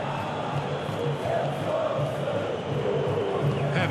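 Stadium crowd noise from the PES 2019 football video game, a steady, dense roar with a slight swell of cheering, continuous throughout without distinct voices.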